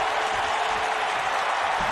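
A crowd in the WWE 2K19 wrestling game roars and applauds steadily, a dense, unbroken wash of cheering and clapping.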